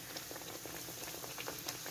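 Bread frying in hot oil in a home kitchen, a steady crackling sizzle with dense popping bubbles throughout, no talking.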